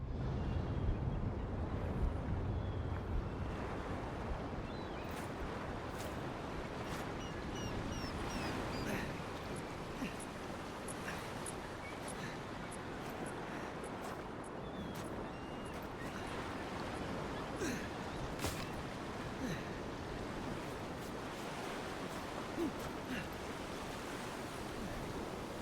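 Steady waves washing onto a beach in the video game Avowed, a constant broad roar of surf with faint scattered splashes and no pauses, heard alone at an even level.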